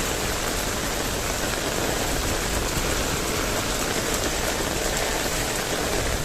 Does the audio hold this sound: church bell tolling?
no